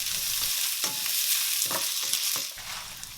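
Chopped vegetable stems stir-fried in a hot wok with oil, garlic and ginger, a steady loud sizzle broken by several sharp scraping strokes of the spatula, close up.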